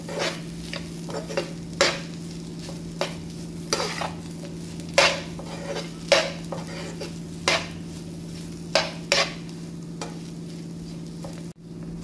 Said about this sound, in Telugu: అలా వేసుకొని ఒకసారి కలుపుకోండి.